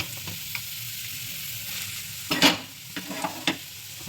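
Grated coconut frying in ghee in a wok for a sweet filling, a soft steady sizzle with a burst of louder scraping stirs and a few clicks of the spoon partway through.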